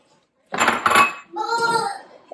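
A spoon clinks and scrapes in a bowl while sugar, flour and a pinch of salt are mixed, in two short bursts of brisk stirring with a brief tonal sound at the end.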